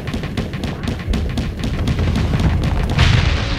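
Weapons fire in the space combat game Starsector comes as a rapid string of booming shots and bursts, loud and dense, with a heavier blast near the end.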